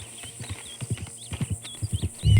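Horse hooves clip-clop in Red Dead Redemption 2 as a steady, close run of paired hoof strikes for about two seconds, ending in a louder burst of low rumbling.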